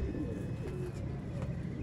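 Batere pigeons of an old Sialkoti line coo softly at close range, with low steady background hum and no talking.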